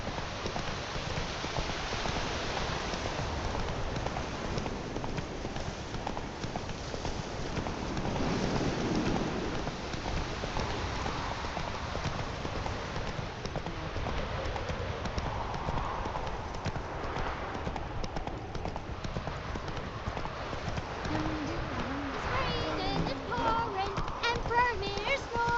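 Roach the horse galloping in The Witcher 3, a continuous rapid drumming of hooves with wind and ambient noise, while a voice speaks over it.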